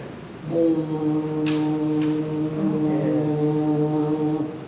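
A deep, steady, droning voice mimics a ship's foghorn, holding one long low tone for several seconds.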